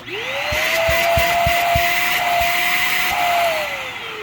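A GeeMo corded stick vacuum spins up with a rising whine, runs at a steady loud roar for a few seconds with a strained, clogged-sounding tone, then winds down. Several light taps are heard early on.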